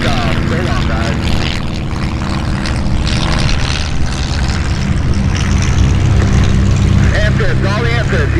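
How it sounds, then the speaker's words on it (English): Four amphibious propeller airplanes take off in a busy airshow departure at EAA AirVenture Oshkosh, a steady loud engine drone filling the whole stretch under radio and crowd chatter. "Flight of 4 amphibs. You're all clear to takeoff."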